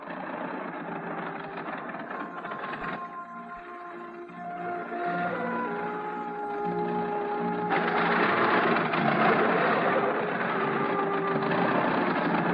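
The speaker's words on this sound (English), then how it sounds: "This old engine will never start again if I stop it now." An old engine chugs and drones steadily, its tone shifting and growing louder partway through as it labours on.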